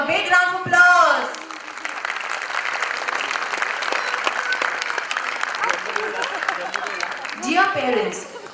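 Parents at a kids' school annual day celebration give the children a sustained round of applause, steady crowd clapping in a hall, with someone talking at the start and again near the end.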